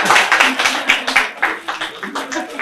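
Audience at a boubou fashion show applauding a presented outfit, a dense burst of clapping with cheering voices mixed in, sustained and fairly close throughout.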